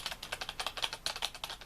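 Rapid, steady clatter of keys on a ZX Spectrum home computer keyboard, about a dozen close, sharp taps in quick rhythm with no voices.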